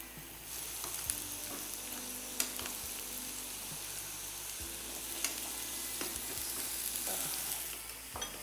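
Dalda shortening frying and being stirred for mixed fried rice, a continuous soft sizzle with a few sharp scrape and clink accents from the stirring utensil, close and fairly quiet, no voices.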